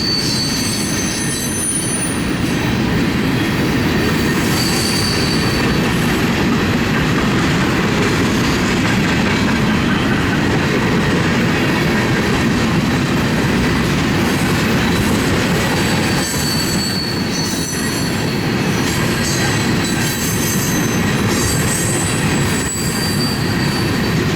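A long freight train with a mid-train locomotive rolls by close and loud on the Needles Subdivision, a continuous heavy rumble of wagons with intermittent high wheel squeals on the rails.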